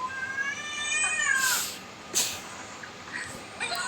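A pet cat meows in a drawn-out, rising call, followed by a couple of shorter, sharper meows, close and clear against a quiet background.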